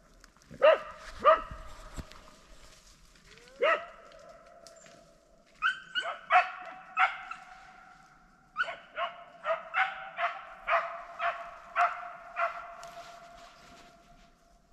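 Hunting dogs bark repeatedly in the distance during a boar hunt, scattered single barks early, then a quicker run of yelping barks echoing outdoors in otherwise quiet surroundings.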